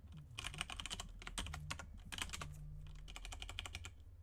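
Fast, close typing on a computer keyboard while someone writes Nix code: dense runs of sharp key clicks with brief gaps, over a low steady hum, with no talking.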